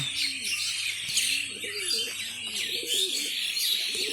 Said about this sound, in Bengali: চারপাশ দিয়ে দেখুন পাখিরা কীভাবে ডাকতেছে,